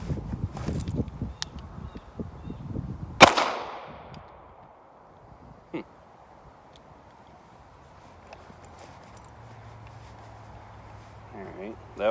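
A Kimber Micro 9 pistol fires one loud, sharp shot with a ringing tail, followed later by a fainter crack; talking precedes the shot and quiet ambience follows.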